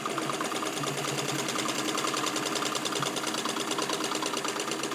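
A serviced Singer 66-18 Centennial sewing machine with crinkle finish stitches steadily, a rapid, even mechanical chatter and hum running close and unbroken throughout with no talking.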